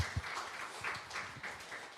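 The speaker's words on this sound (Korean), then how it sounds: "우리 환영합니다. 환영의 박수 하겠습니다." A congregation at a church youth service claps in welcome for newcomers, a soft, scattered round of applause heard from across the room, steady for about two seconds with no talk.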